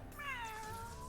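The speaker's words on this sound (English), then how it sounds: "If it isn't that cat I rescued this morning." A single drawn-out cat meow from the video game Legends of Runeterra, clear and close, falling in pitch, over faint game background sound.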